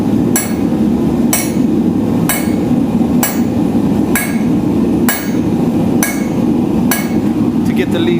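A blacksmith's hammer strikes a steel leaf on the anvil with steady glancing blows, eight bright metallic rings at an even pace of about one per second, loud and close over a constant forge roar.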